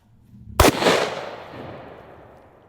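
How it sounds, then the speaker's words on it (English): A single sharp, loud rifle shot rings out from an AR-15 held in a lead sled and fired by pulling a string outdoors, followed by a long fading echo. "Let's see what the old salty AR-15 does."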